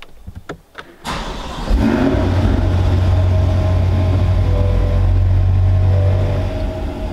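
A few faint clicks, then a 2020 Chevrolet C8 Corvette engine cranks and catches, settling into a loud, steady rumbling idle up close.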